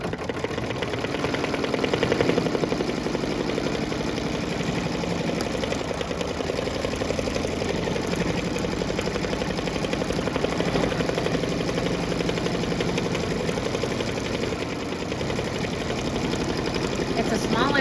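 An embroidery machine stitching a satin stitch on a small appliqué, giving a steady, fast mechanical whir with an even motor drone that continues unchanged throughout. The sound is close and moderately loud.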